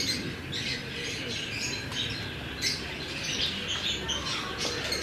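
Jaler pigeons, a breed crossed from Teddy and Jurra pigeons, call with soft, repeated squawks and chirps over a steady background hum, without talk.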